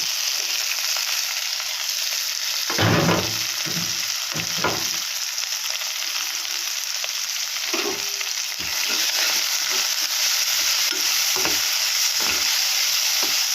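Coriander, green chilli, turmeric and salt fry in a spoonful of oil for a sweet pumpkin dish, a steady loud sizzle with intermittent stirring clatters and scrapes throughout.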